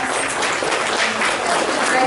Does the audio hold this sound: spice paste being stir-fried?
no